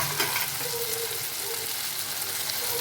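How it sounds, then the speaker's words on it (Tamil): Fried masala idli pieces sautéing with spices in a pan, a dense continuous sizzle with light stirring scrapes, close and steady. "தக்காளி சாஸு எல்லாத்தையும் ஊற்றி நல்லா வதக்கிடலாம்."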